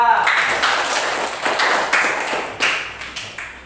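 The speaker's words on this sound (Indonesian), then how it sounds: "Sekali lagi tepuk tangan untuk kelompok 2" Students in a classroom clap for group 2 during a civics lesson, the applause already underway and tapering, with a few sharper claps standing out and voices chattering alongside.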